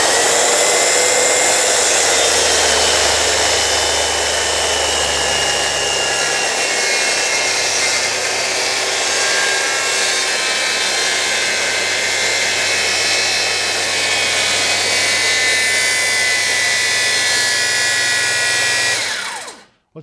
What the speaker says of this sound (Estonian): Paneme tööle, pöörded sisse ja väga siuke võimekas saag